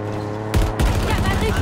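Halo Infinite gameplay gunfire crackles in loud, rapid bursts, with dense repeated shots layered over game music and engine-like hum.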